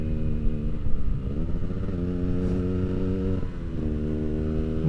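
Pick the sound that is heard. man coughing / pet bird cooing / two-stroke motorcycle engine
two-stroke motorcycle engine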